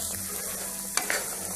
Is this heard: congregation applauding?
no